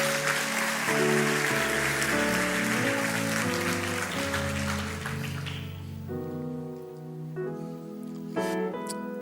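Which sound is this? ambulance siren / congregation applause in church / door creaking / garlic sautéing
congregation applause in church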